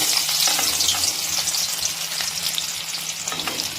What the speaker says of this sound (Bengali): এখানে তেলটা কিন্তু গরম হয়ে গেছে। আর এবার আস্তে আস্তে এই সমস্তটা কিন্তু আমি দিয়ে দেবো তেলের মধ্যে। তো প্রথমে দিচ্ছি রসুন